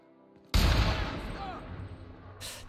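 A loud new gun fired in The Outer Worlds, a sudden heavy blast with a booming tail that slowly decays, followed by a short burst near the end, with a voice speaking over it.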